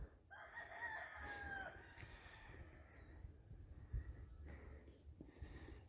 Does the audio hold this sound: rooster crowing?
yes